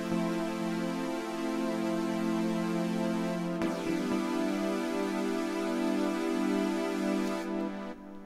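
Sustained synth pad playing alone in Logic, a steady, full chord of layered harmonics holding for about eight seconds with a brief shift partway through, then thinning at the end.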